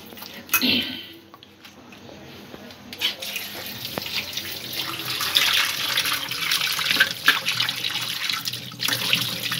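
Kitchen tap water runs steadily over snakehead fish being washed in a sink, a continuous close splashing hiss with brief louder surges, while a person speaks quietly over it.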